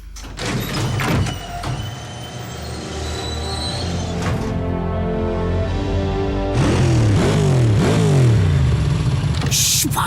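A motorcycle engine in the animated series Transformers Prime revs up in rising, whining pulls after a few sharp clatters, loud and close, with no talking over it.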